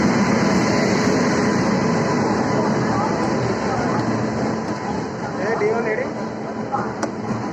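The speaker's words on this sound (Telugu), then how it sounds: "ట్రైన్ కూడా వచ్చేసింది. అండ్ ఇది Secunderabad to Visakhapatnam non stop express." Godavari Express, a Secunderabad to Visakhapatnam non-stop train, rumbles through Secunderabad station with a steady, loud, broadband rolling roar and clatter, station noise and voices mixed in throughout.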